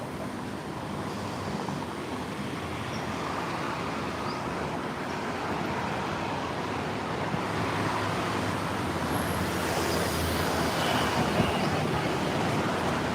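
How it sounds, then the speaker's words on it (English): Bangkok BTS SkyTrain passing along an elevated line, a steady broad rumble of rail and wheel noise that holds throughout, mixed with surrounding city road traffic at a moderate distance. "this right here is the SkyTrain systems"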